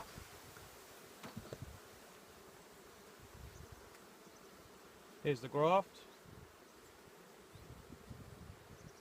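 Nurse honey bees crowding a queen-rearing graft frame in an opened hive on a cold day: a continuous close buzzing hum throughout, with someone speaking briefly in the middle.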